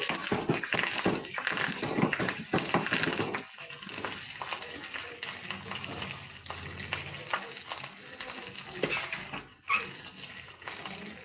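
Freshly picked curry leaves crackle and sizzle in hot oil in a frying pan for a mashed potato curry, with close, steady frying hiss broken by scraping and clattering stirs.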